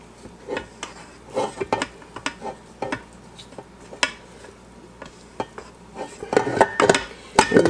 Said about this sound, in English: I'm just gonna kinda get this all scooped together here